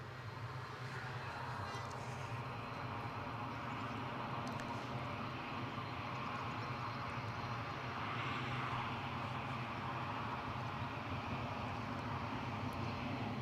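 An ATR turboprop airliner at Newcastle International Airport gives a steady, moderately distant engine drone that holds level throughout, with a faint broadband hum and no clear rise or fall.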